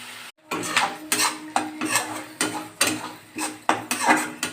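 Katla fish fries in oil in a pan with coriander leaves, a metal spatula scraping and clinking against the pan in a steady, repeated stirring rhythm, fairly close and with no talk.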